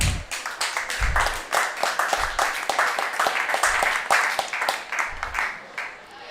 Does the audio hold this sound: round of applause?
yes